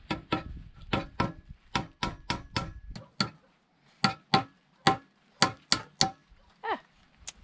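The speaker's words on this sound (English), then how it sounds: "what I'm about to do with the hammer and the nails" Hammer strikes driving nails into wood for shelves in a rural barn conversion, a steady run of sharp close knocks roughly every half second, a brief pause, then more spaced blows.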